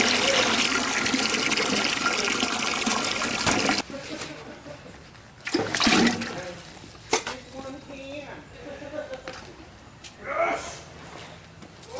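Tap water gushes loudly into a pot for a crayfish boil for about four seconds, then cuts off. Quieter splashes, trickles and handling noises follow.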